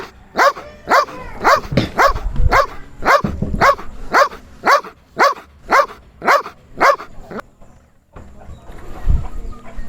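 A dog barks repeatedly in a fast, regular series of loud, sharp barks close by, then falls quiet.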